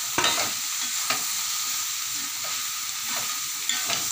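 Kelan is stirred into curry masala powder frying in hot oil, a continuous bright sizzle with a few sharp spatula scrapes and taps against the pan, close and without speech.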